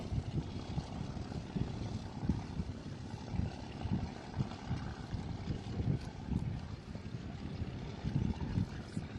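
A low, rumbling racing boat engine idles steadily at a moderate distance while moving at about 30 miles an hour, with a continuous throaty throb and no talking.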